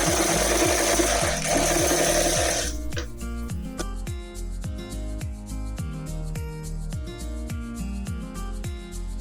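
A sewing machine stitches a folded hem on a frock, its fast regular needle clatter running close and loud throughout, with a brighter whirring hiss during the first few seconds.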